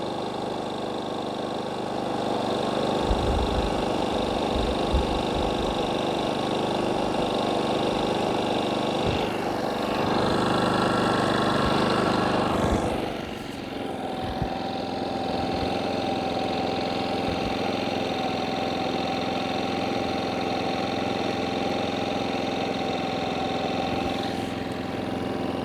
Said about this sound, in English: Right up to the generator.